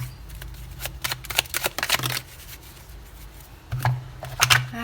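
Oracle cards are shuffled by hand in several close, crisp bursts of riffling and sliding, with short pauses between them.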